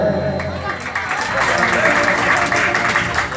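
An audience claps along at a live Maithili folk song performance. Dense, steady applause swells in after a moment and holds loud to the end, with voices mixed in.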